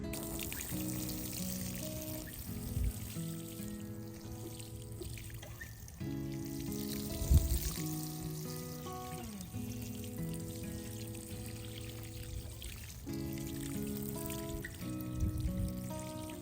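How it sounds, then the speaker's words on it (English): Water trickles and pours onto garden soil before Walla Walla onions are planted in a spring garden, a quiet, steady splashing stream that pauses briefly several times. "I'm going to water the soil a little bit before I start separating out my onions"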